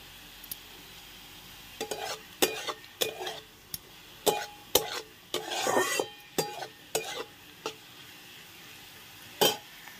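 Potatoes and soya chunks fry with a spice mix in a pan, heard as a series of distinct scraping stir strokes over a soft, steady sizzle.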